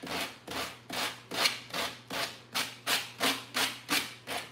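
Rhythmic hand sanding on a painted wood surface, knocking off lifted paint, about a dozen steady back-and-forth rasping strokes, close and clear with no talking.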